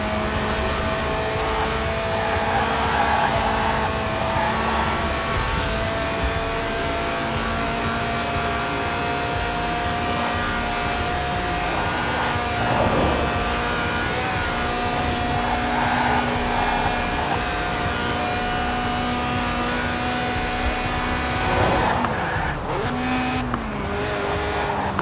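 A Lotus with a 1.8-litre engine revving toward 8,000 RPM in Forza Horizon 4, loud and close, with a continuous high engine whine rising and falling across gear changes and brief tire squeal near the end.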